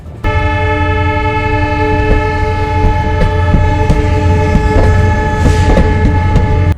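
Moving Intercity Express train blasting a long, steady horn up close, loud and unbroken across the whole stretch, with rolling rail rumble underneath.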